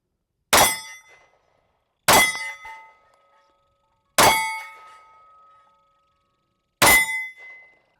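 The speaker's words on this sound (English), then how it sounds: "I'm just going to start off with shooting it as loose as I can in my hand and see if we can cause a malfunction." A Shield Plus semi-automatic pistol fires four sharp shots, a couple of seconds apart. Each crack rings briefly before fading, with clear silence between shots.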